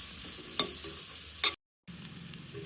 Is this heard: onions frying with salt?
yes